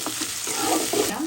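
Onion, tomato, salt, bay leaves, cinnamon, cardamom and cloves frying in a pan, a close, busy sizzle broken by soft stirring scrapes and wet bubbling, with no speech.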